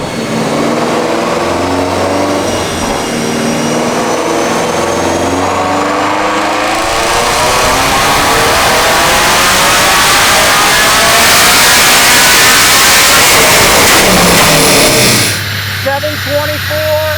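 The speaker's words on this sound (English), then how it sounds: "I'm gonna leave the car running" A twin-turbo Shelby GT350 on a dyno, 800 hp on 93 octane with a Hellion turbo sleeper system, revs loudly and climbs in pitch through a sustained pull before dropping back to a steady idle near the end, with voices mixed in.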